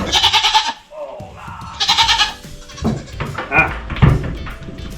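A goat bleats loudly and close by in a run of wavering cries, with a few shorter bleats following.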